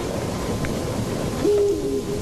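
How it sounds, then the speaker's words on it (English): In a staged Macbeth scene, an owl gives one sustained, tonal cry partway through, over a steady wash of rain- and thunder-like storm ambience. "It was the owl that screeched."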